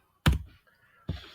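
Two distinct keystroke clicks on a computer keyboard, close and fairly quiet, separated by under a second.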